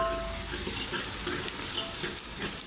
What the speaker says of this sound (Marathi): हा खाण्याचा सोडा मी एक चमचा ह्याच्यामध्ये घालतो आणि सगळं असं छान परतून घेतो